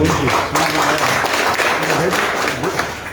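Audience at a farewell and honour ceremony for district education officers gives loud applause, dense continuous clapping close and full throughout, with a voice faintly heard beneath it.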